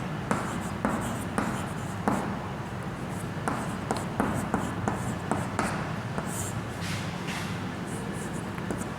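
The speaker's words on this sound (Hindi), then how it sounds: "पहले तो लिखेंगे" Marker or pen strokes scratch across a board or paper in short bursts with brief pauses between them, close and fairly clear, with no talking.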